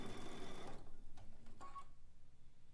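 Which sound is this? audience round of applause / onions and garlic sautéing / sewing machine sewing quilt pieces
sewing machine sewing quilt pieces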